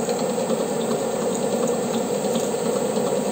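Steady machine hum with a continuous hissing, grinding whir of a lathe cutting a thread on an oiled threaded rod, constant and fairly loud throughout.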